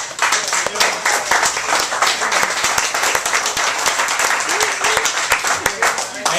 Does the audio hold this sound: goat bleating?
no